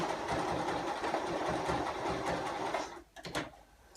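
A sewing machine stitches rapidly backwards and forwards over a button loop on a girl's dress, a steady close mechanical whirr that stops abruptly near the end, followed by a few faint clicks.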